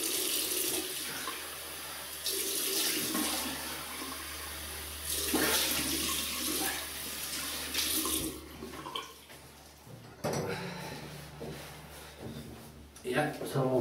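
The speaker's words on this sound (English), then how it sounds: "So I just rinse off." Running tap water rinses a face after a wet shave with a shaving stick soap, a steady close splashing flow with breaks and surges, someone talking over it at times.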